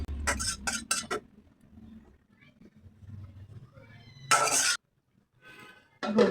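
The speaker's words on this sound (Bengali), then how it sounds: "এখন আমি ইলিশ মাছগুলি ছেড়ে দেবো।" Hilsa fish pieces drop into a pot of curry with eggplant, giving a few close clinks and clatters of metal utensils and pot, then a quiet gap and a final burst of clatter.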